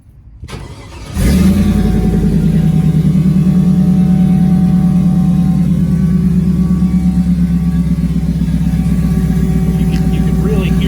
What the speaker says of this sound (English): You can really hear that pump over everything.